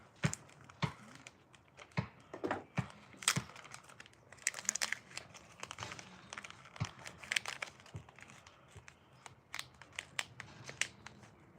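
Packaging for size 6 red octopus fishing hooks being torn open, close crinkling and crumpling with sharp rips and snaps in an irregular rhythm, no talking.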